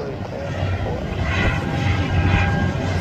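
LATAM airliner, an A321, taxiing at Guarulhos airport, a steady loud engine roar and whine at moderate distance throughout, with voices present.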